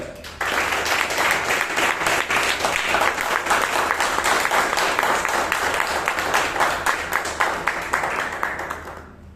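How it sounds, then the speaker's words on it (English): A room full of people at a Toastmasters meeting applauds, steady loud clapping starting abruptly and continuing for several seconds before fading out. "doing a job so clinically well deserves a round of applause"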